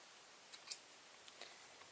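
Scissors snipping through yarn on a knitting loom craft, two quick faint clicks close together, followed by softer small ticks in a quiet room.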